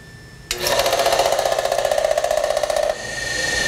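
A bench brake lathe switches on abruptly and runs with a steady mechanical hum and whine for about two and a half seconds, then spins down, close by in a workshop.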